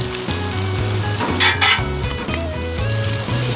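Onions frying on a flat-top griddle while being stirred and turned, a steady loud sizzle with scraping spatula strokes and a few brighter crackling bursts, no voices.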